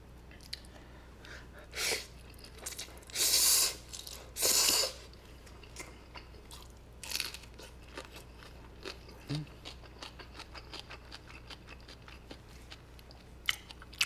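Spaghetti ramen is chewed close to the mic in a quiet room, with soft intermittent bites and a few louder wet, crunchy bursts spread across the stretch.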